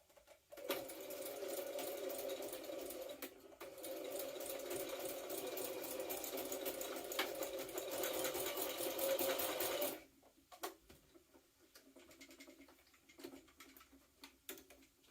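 A sewing machine runs steadily while top-stitching a jumpsuit, two long continuous whirring bursts with a brief pause between, then stopping into scattered light clicks and handling noises.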